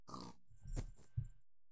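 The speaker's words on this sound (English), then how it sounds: "Whoa, that pig's spazzing." Pig grunting in the Minecraft video game: a few short, close grunts in quick succession, with a brief pause between bursts and no talking.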